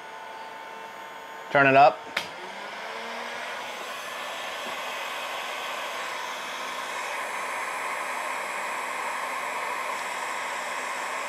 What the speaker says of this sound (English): I'm just gonna turn this heat gun all the way to full, 123 amps.